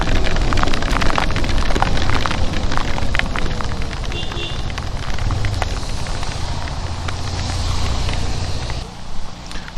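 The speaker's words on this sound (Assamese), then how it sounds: "এটা বহুত বৰষুণ দি আছে" Heavy rain pours steadily during a ride through Kakoijana reserve forest, a dense continuous hiss with wind and vehicle rumble underneath, close and loud throughout with scattered sharper drops and brief noise bursts.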